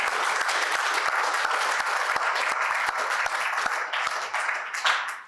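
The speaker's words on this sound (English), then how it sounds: "I think we want a round of applause." Dense applause from an audience at a university launch event for a WHO tuberculosis research centre, steady and close throughout with no pause, fading slightly near the end.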